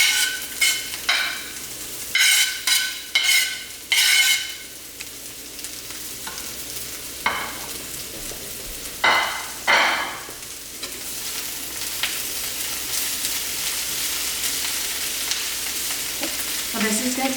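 Carrot, cabbage, cilantro and garlic sizzle steadily in a pan for spring roll filling, with repeated loud scraping stirs of a utensil over the frying, no voices.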